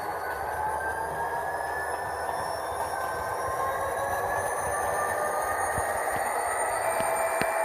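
Athearn SD45T-2 model diesel locomotive with a Tsunami2 sound decoder running in reverse, giving a steady synthetic engine drone with slowly rising whine tones and faint wheel squeal, moderately quiet and continuous, with a couple of small clicks near the end.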